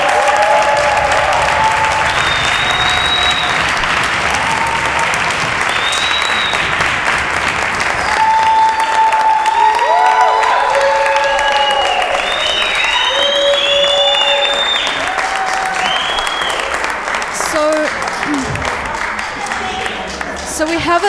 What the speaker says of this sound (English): can we give everybody a round of applause?